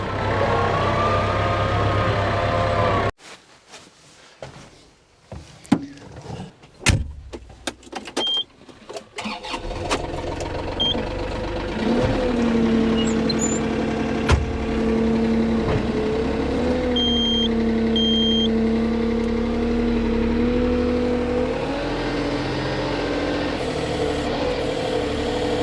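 A vehicle drives across a lawn of newly sown grass seed, its engine a steady close rumble with a rising whine, broken early by a pause filled with knocks and clatter before the motor settles back in.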